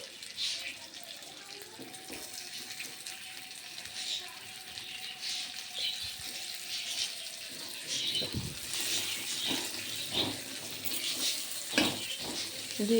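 Sliced onions fry in a hot wok for a Bengali red spinach and prawn dish, giving a steady, soft hiss and sizzle that rises slightly toward the end, with a voice talking faintly at times.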